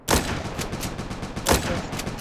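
Sniper rifle shots in an online multiplayer shooter during an attack on an airport, two sharp loud cracks about 1.4 seconds apart over a dense, noisy game background.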